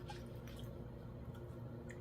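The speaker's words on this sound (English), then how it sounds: "And now I'm going to pour it over the flowers, completely covering the flowers." Melted virgin coconut oil poured over lantana flowers in a container, giving a quiet, steady liquid trickle with faint dripping and soft splashy bursts, close up and without talk.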